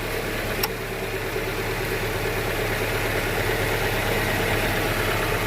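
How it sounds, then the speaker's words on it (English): A 2017 Toyota 86 with a Perrin aftermarket intake idles steadily at close range, a constant low engine hum with a brief light click near the start and no talking. "But if you hear it's idling fine."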